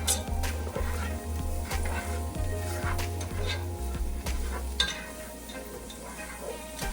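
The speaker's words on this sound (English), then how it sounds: "we're gonna go ahead and give that a stir. And we're gonna cook these onions till they're translucent." Onions frying in a little oil at the bottom of a pot for chili, a steady close sizzle broken by regular clinks and scrapes of a utensil stirring against the pot.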